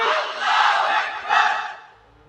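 A crowd at an Islamic sermon shouts takbir (Allahu Akbar) in unison, two loud swelling bursts of massed voices that fade out at the end.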